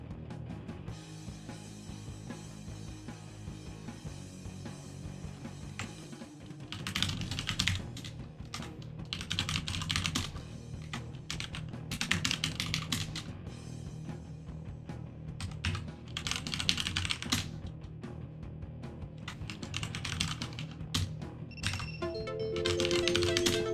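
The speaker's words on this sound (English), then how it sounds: "You all got me typing today" Rapid keystrokes on a computer keyboard clatter in dense bursts separated by short pauses, close and fairly loud, with a low musical bed running underneath throughout.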